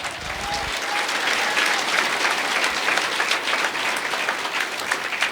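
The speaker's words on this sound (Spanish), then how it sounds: "Fuerte aplausos, Iglesia de Cristo." Loud, steady applause from a large church congregation, sustained throughout with dense clapping and no pauses.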